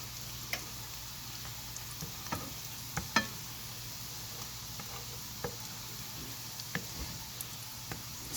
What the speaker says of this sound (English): I just had the butter in and the garlic, so I'm melting the butter